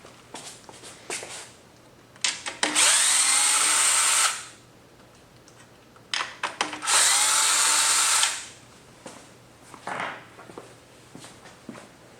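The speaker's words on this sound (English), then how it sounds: "So as you're getting your last bolts out" Power driver spinning out 12mm hex head fender bolts on a 2024 Yamaha MT-09, two loud sustained whirring bursts of about two seconds each, close by, with scattered handling clicks and rattles between them.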